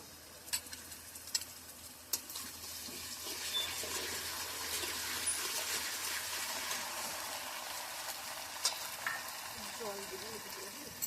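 Ground coriander and cumin paste frying with browned onions for an old-style meat curry, a soft continuous sizzle with a few sharp clicks of stirring near the start and end.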